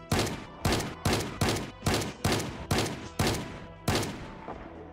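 Gunshots from a firearm in the zombie survival game Project Zomboid, about nine loud, close blasts fired at a steady, slightly uneven pace, each with a short decaying tail, alone without talk.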